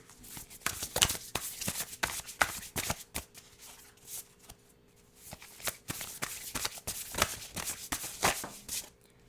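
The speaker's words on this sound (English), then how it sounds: "let's take out some tarot cards to gather more information about his career" Tarot cards are shuffled by hand in quick, crisp riffling bursts with short pauses between, close and fairly quiet, no talking.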